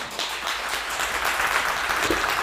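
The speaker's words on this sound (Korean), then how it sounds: "무대로 나오실 때 뜨거운 박수 부탁드립니다." A lecture audience claps warmly to welcome a speaker to the stage, a steady wash of applause at moderate loudness with no talking over it.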